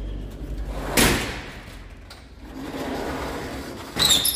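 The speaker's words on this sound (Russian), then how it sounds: "Открою дверь." An apartment door opens with a sharp latch clack and thud, followed by a low shuffling rustle and a second clatter of the door at the end, with no talk.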